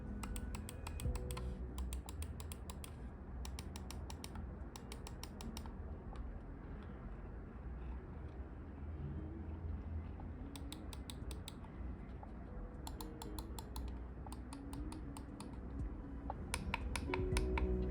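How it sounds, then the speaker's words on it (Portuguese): Bursts of sharp, high-pitched button clicks from a Redragon G49 PRO wireless gaming mouse, fired in quick rapid clusters over a steady low background hum, with a quiet gap in the middle. "São sons que são bem mais agudos do que o normal, então vocês podem ver que ele tem um clique mais alto"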